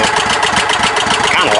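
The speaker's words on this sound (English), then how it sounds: "I'm not used to hearing it idle this low." Snatch tractor tow rig engine idling low, a loud steady rumble with a rapid pulsing beat close by, throughout the short stretch.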